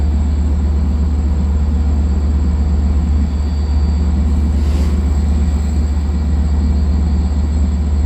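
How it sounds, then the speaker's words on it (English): A 12-car Grand Central-bound train pulling out of Babylon station, a loud steady low rumble of the moving cars, close by and continuous with no talking. "Get a better shot of the Grand Central train leaving."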